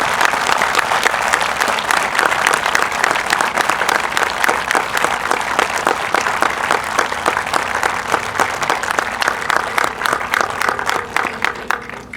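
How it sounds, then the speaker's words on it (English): An outdoor crowd applauds at the opening ceremony of The Wall That Heals in Mead, Colorado, loud dense clapping close by that holds steady for about twelve seconds and then begins to thin out. "can you please give the town and Lorelei a big a round of applause?"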